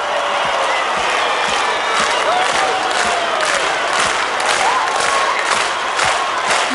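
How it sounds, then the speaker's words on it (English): A concert crowd at a show claps along and cheers, loud massed noise with rhythmic hand claps marking a beat and some shouting, a sustained wash of audience sound throughout. "And clap with me, come on."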